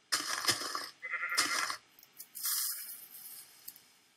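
Minecraft sheep bleating, two close, fairly loud bleats in quick succession followed by a harsher, buzzier cry and a few faint trailing game sounds.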